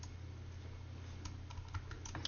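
Quiet keystrokes tap on a computer keyboard in irregular bursts, faint and close, over a low steady background hum with no speech.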